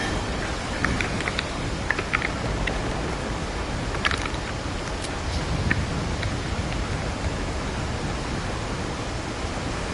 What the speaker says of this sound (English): You see, this rain, yes, is it very believable?